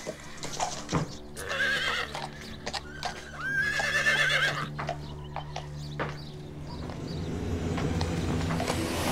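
Horses whinny loudly and up close, two long neighs rising over the scene, while hooves clop and shuffle irregularly throughout and a low outdoor rumble swells toward the end.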